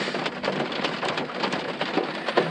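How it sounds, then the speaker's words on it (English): Heavy rain pours steadily during an intense night thunderstorm along a mountain ultramarathon course, with a dense hiss of drops striking the ground and scattered sharp crackles and dull rumbles of thunder throughout, with no talk. "this storm is intense. Oh man, so much lightning, so much thunder."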